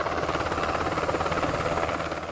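Helicopters circle over residential barangays in Del Gallego, Camarines Sur, a steady broadband rotor drone filling the air without pause.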